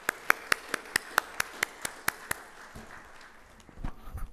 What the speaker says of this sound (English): please join me in giving big applause to our distinguished guests on the dais